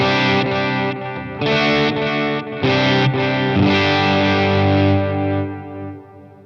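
Electric guitar played through an HX Effects unit with fuzz, reverb and delay, loud distorted chords in a few bursts, the last one ringing out and fading.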